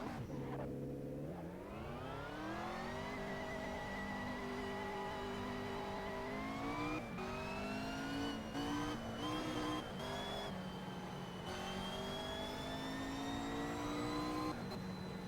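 A race car in the Assetto Corsa racing game drives continuously under load, its engine climbing and dropping in pitch through gear changes, with brief tire squeal and a steady close, loud drone.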